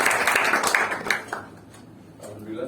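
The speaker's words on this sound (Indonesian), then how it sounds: "Tepuk tangan untuk Syahrian." Students in a classroom give a short burst of clapping for a classmate, loud at first and fading out after about a second, followed by quiet room sound.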